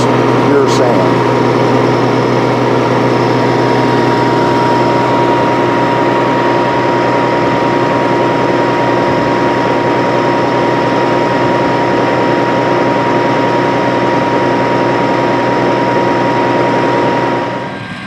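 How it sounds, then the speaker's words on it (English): A John Deere 9986 cotton picker harvesting six 38-inch rows of cotton in a sandy field gives a loud, steady engine and machinery drone with strong tonal hum that holds level throughout before easing off at the end, with talk over it. "Here we can see the big John Deere 9986 cotton picker harvesting across 6 38-inch rows of cotton."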